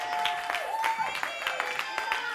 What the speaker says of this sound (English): A round of applause to this incredible performance!